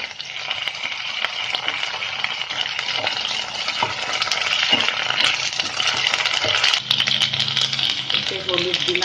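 Ginger, onion and garlic paste sizzles and fries in hot oil for a ghugni curry, with steady bright crackling and occasional stirring scrapes, continuous and close.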